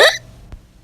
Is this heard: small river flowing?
no